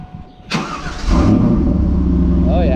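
A 2000 Chevrolet Camaro Z28 V8 cranks briefly and catches, then settles into a loud, steady rumbling idle close by; a voice speaks faintly just before it fires.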